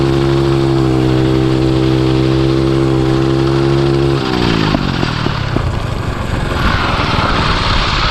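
Small engine of a drift trike built half ATV, half dirt bike, droning steadily at one pitch, then dropping and revving unevenly as the rider shifts and slides, loud and close with wind noise.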